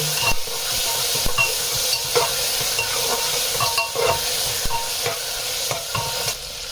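Tomatoes hitting browning onions in a pan for chickpea biryani, with a steady close sizzle and repeated scraping stirs clicking against the pan throughout, no voices.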